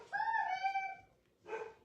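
A dog named Charlie upstairs in a house gives a drawn-out whining yowl, then a shorter bark-like yelp after a brief pause, moderately loud and heard through the home.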